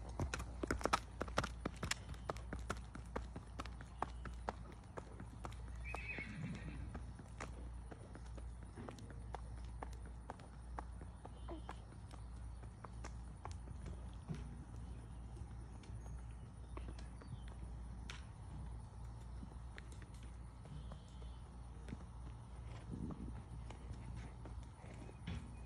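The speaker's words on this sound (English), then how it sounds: "Big, stout, good mare right here." A 14-year-old thoroughbred mare, 15.3 hands, walks with steady clip-clop hoofbeats on firm ground, louder at first and then settling into a soft, even rhythm, with faint neighs and low background noise throughout.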